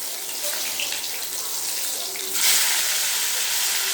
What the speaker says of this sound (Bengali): এবার মাছটাকে উল্টে দেবো।